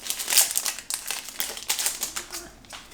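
Tape being peeled and pulled off a Pokémon card package, producing a rapid series of crinkly, rasping tears and crackles, close and fairly loud with no talk.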